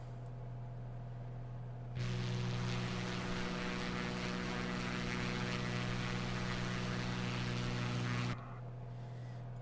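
Steady propeller engine drone of a Beechcraft V35B on a night flight from Baltimore toward Philadelphia, rising abruptly to a louder, broadband roar for several seconds before dropping back to a low cabin hum.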